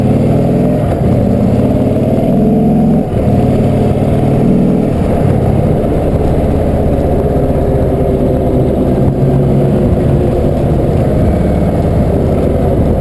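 An Indian Chieftain motorcycle accelerates away from traffic lights with a loud, close engine rumble. The revs climb in several steps as it moves through the gears, settling into a steady drone.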